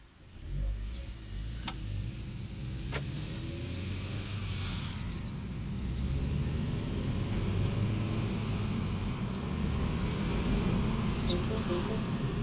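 A 2016 Mini Cooper S pulling away in first gear, heard from inside the cabin as a steady low engine drone that builds slightly, with a person talking over it.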